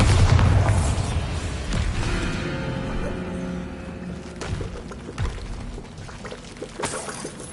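A Bombarda spell explosion in the video game Hogwarts Legacy, with a heavy boom at the start and a rumbling, crumbling tail that fades, followed by smaller thuds and debris.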